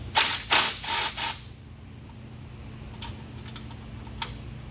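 Removing a 10mm ground nut on a 2018 Cadillac CTS: a quick run of close ratchet clicks at first, then quiet with a few faint ticks and clinks afterward.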